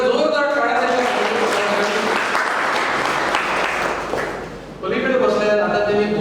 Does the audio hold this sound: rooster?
no